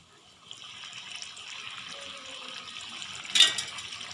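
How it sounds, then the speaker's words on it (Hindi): Water poured into a pot of chana dal as it cooks, a steady close splashing and trickling that swells briefly near the end, with no talk. "तो चलिए हम इसमें पानी शामिल करते हैं।"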